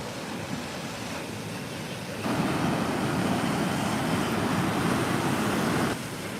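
Ocean waves crash against the rocks at San Bartolo Playa in Peru, a broad rushing roar that surges louder midway, then eases back to a softer wash.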